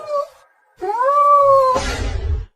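A cat cries with one short wail, then a longer, rising and drawn-out cry, followed by a rough, noisy burst, all loud and close.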